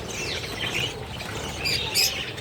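Budgerigars, Australian parakeets kept as pairs, chirp and tweet in a rapid, continuous chatter at close range, with brighter squawky calls rising near the end and no talk over them.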